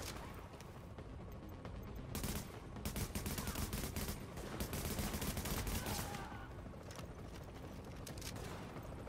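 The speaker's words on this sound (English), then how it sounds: "Did I say you could shoot at me, bro?" Rapid bursts of automatic gunfire from The Division video game, loud and dense, with the heaviest shooting in the middle and lighter shots around it.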